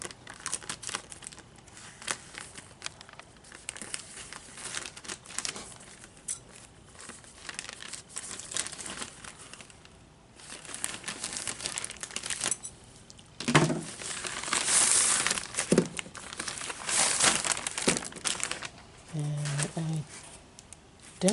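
A FedEx shipping package is cut open during a toy unboxing, with close crinkling, tearing and rustling of packaging in irregular bursts, louder near the end, as a voice talks.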